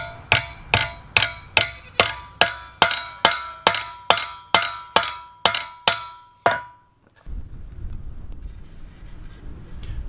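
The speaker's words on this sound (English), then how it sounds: "I decided to put a small hole in it so that I could secure it with a nail." A hammer drives a nail to fix a metal spear head to its shaft: about thirteen sharp, ringing metallic strikes in a steady, quickening rhythm, loud and close, followed by a brief silence and low rustling.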